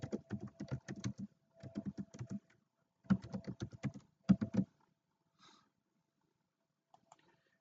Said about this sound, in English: I'm going to just type first name.